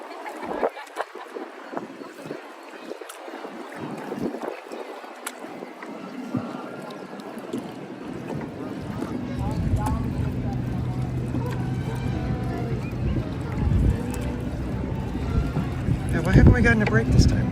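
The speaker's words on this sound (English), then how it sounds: "We've been paddling the whole dang time." Canoe paddling on the river at Disneyland: steady water sloshing and wind rumble under nearby voices, growing fuller and busier toward the end.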